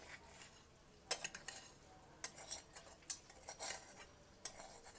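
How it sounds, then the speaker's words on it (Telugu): A ladle mixes cooled tempering into pulihora tamarind rice, producing repeated metallic scrapes and clinks against the vessel in an irregular rhythm, close but fairly quiet, with no voices. "ఇది కొంచెమే ఉంది కాబట్టి గరిటతో కలుపుదాము"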